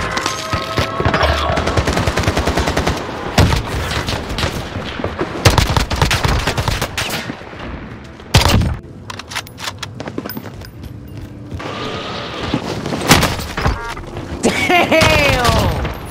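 Rapid AK rifle fire rattles in a Warzone match, loud and close, with dense bursts broken by brief gaps and heavy booms, while players talk over the shooting.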